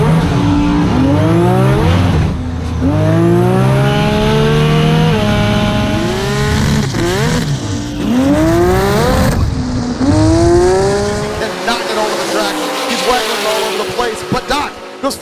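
Turbocharged inline-6 Toyota Supra, a roughly 1800 hp drag car, roaring at launch on a drag strip, with engine notes rising and dropping through gear changes, loud and close throughout before thinning out near the end.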